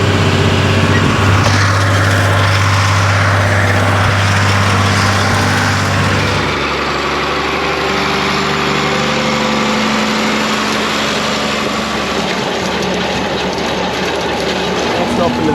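A John Deere 4040S tractor engine runs steadily during hay making on a farm, a loud low droning idle throughout that shifts in tone partway, with people talking over it.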